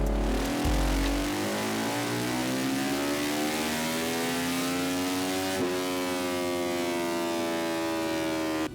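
A motorcycle engine revs steadily upward on a dyno during a baseline power run toward about 9,350 RPM, a loud continuous rising whine that climbs smoothly through the whole stretch with no speech.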